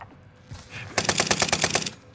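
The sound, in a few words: gunfire in the video game Call of Duty: Warzone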